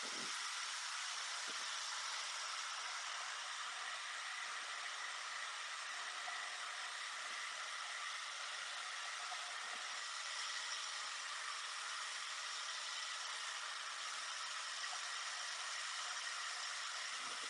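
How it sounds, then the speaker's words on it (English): A hair dryer blows steadily and continuously at close range, drying a pen and ink painting with watercolour wash, a constant broadband whooshing hiss with no pauses and no talking. "There's the hairdryer coming in."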